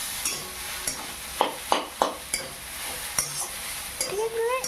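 Brahmi greens (Bacopa monnieri) frying in a pan and being stirred: a soft sizzle underneath, broken by several sharp scraping knocks of the utensil against the pan, with a few louder strokes spaced about half a second apart.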